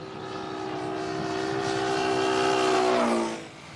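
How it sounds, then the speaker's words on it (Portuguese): A small airplane engine drones steadily and fairly loud as it passes by, its tone bending lower near the end before the sound drops away. "Quando o aviãozinho se aproxima e depois se afasta, o barulho que ouvimos muda"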